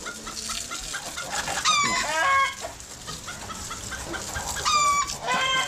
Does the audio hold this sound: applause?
no